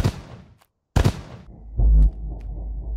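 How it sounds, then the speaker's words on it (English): Fireworks set off in the horror video game In Silence: a sharp burst, then a louder deep boom with rumbling crackle and a long low tail, fading into a quieter rumble. "Setting off fireworks like."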